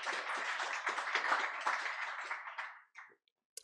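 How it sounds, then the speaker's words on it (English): Conference audience at a Club of Bologna meeting giving a warm round of applause, steady dense clapping that fades out near the end with a few last claps. "if we could all give Paolo a big, warm round of applause"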